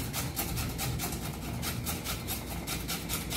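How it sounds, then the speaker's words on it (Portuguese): A red onion is grated by hand, making a fast regular rasping scrape, stroke after stroke at close range and fairly quiet, with no voices over it. "Vai ralando, pessoal."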